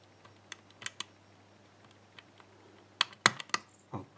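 Small metallic clicks and taps from picking a lock, a sparse series of sharp, close ticks followed by a denser cluster of louder clacks near the end.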